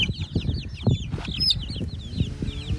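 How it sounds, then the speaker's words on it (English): Standard guinea fowl call outdoors in a steady, rapid run of repeated harsh chattering notes over low clucking and background rustle, fairly distant and continuous, with no talk. "Okay, so I have 4 standard guineas"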